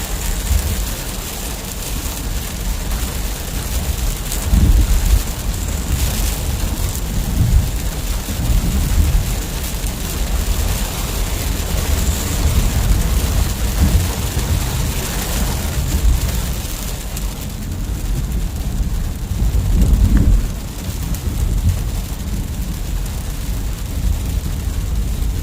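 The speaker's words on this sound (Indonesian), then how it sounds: "Sekarang hujan semakin deras dari kilometer 184 ini" Steady heavy rain on the Cipali toll road in Indonesia hisses throughout, a dense continuous wash with occasional low rumbles underneath.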